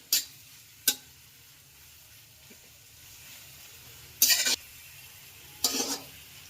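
Manchurian being stir-fried with masala over a full gas flame: two sharp utensil ticks early on, then two short bursts of scraping and sizzling stirring, with faint frying in between and no voices.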